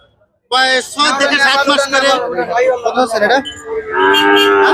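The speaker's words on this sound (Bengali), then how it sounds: "কত সুন্দর একটি বড় গরু" A young calf at a rural calf market gives loud, drawn-out moos close by, a long bellow followed by shorter broken calls and another sustained low moo.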